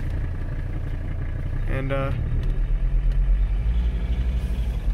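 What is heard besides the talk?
1985 Mercedes 300CD engine running while driving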